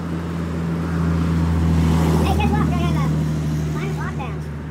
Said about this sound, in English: Here comes a diesel.